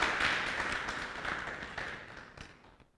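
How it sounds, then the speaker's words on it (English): Applause from an audience at a school math and science quiz bee: a burst of many hands clapping, loudest at first and then thinning out over a few seconds. "Give a big applause first"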